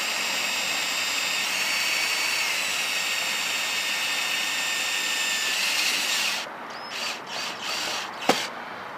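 A power driver sinks self-tapping screws into railing brackets with a steady high whine lasting several seconds, then a few short stop-start bursts and a sharp click.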